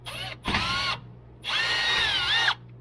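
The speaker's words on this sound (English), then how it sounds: "I might switch out to my bigger drill" A power drill fitted with a step bit cuts into metal plate on a Jeep during an evap leak repair: two whining bursts, a short one then a longer, rising grind, with a brief pause between, close and loud.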